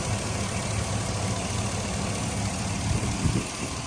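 A car engine idles steadily after being sprayed off, a constant low rumble and hum running close and fairly loud throughout, with no talk.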